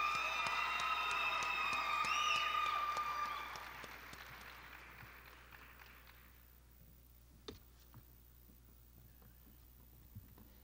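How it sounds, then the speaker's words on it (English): Applause from an audience at an evening awards event swells briefly with a few high whoops and whistles, then dies away over several seconds, leaving a near-silent room with a couple of isolated clicks. "Give them a round of applause, please."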